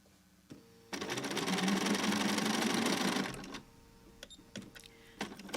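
A sewing machine stitches a curved quilt seam in a close, steady whirring run of about two seconds, framed by brief clicks and handling noises before and after.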